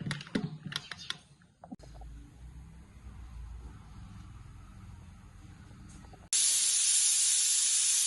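Faint clicks and a low rumble give way to a sudden loud, steady hiss as a pressure cooker whistle releases steam, continuing to the end.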